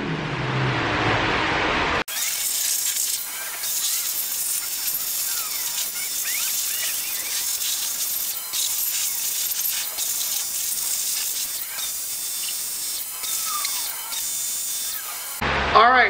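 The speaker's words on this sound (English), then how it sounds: "I'm right now power washing the underside" A pressure washer sprays the underside of a Nissan 240SX being prepared for undercoating, a continuous hissing jet with rough fluctuations as it hits the metal, close and loud, briefly interrupted at the start and end.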